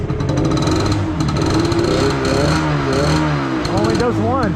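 An old Cub tractor engine revs up loudly with the choke off, running unevenly on one firing cylinder, its rough pulsing drone rising and falling throughout while people talk over it.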